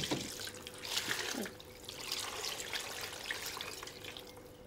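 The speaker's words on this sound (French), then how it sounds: "Et on couvre d'eau." Water pours into a pot over eels for a bourride, a steady close splashing stream running through the whole stretch with a brief gurgle near the start.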